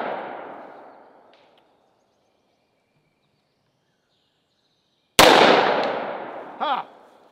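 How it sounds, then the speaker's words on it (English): Gunshots from a double-barrel 1911 pistol fired at pineapples outdoors: one fading report at the start, then after a silent gap a loud sharp crack with a ringing tail and a brief metallic whine. "Up next, we're gonna shoot some pineapples."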